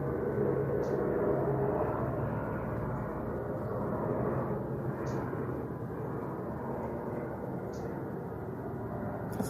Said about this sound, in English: That's a helicopter again.